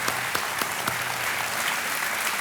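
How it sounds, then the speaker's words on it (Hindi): Studio audience on a televised quiz show breaking into applause: a steady wash of many hands clapping at moderate volume, continuous for the full stretch with no speech over it. "तालियों के साथ आपका हम अभिनंदन करते हैं।"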